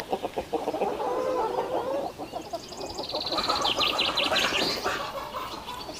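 Village hens in the Shamshadin area cluck in a loose, continuous chatter, with a few sharper higher calls and chirps rising over the flock, soft and moderately close with no talking.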